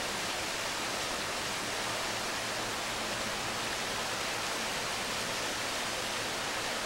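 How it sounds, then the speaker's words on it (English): Steady broadband rush of a low waterfall in a downhill forest in County Londonderry, its flow reduced after dry weather; a continuous, even wash of falling water with no voices. "Usually a heavy waterfall, but after a spell of dry weather, as you can see, it's pretty low."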